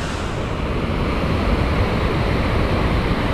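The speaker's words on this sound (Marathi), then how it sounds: "पाणी बघा नदीला केवढं आलंय, एकदम खतरनाक" A swollen monsoon river in the Konkan rushes past in a continuous loud, broadband roar of churning water, steady throughout with no voices.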